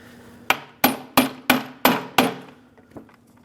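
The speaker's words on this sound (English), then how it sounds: "very gently tap them down with a hammer and your driver" Six sharp metallic taps of a hammer on a socket, driving a valve cover gasket down on a 3.6L Dodge Grand Caravan engine, close and evenly spaced, with a faint final tap.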